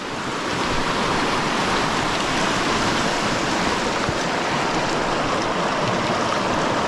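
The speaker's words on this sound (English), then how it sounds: "so here's our glacial melt" A glacial meltwater stream on Alaska's Kenai Peninsula roars steadily and loudly, a constant broadband wash of water with no pauses.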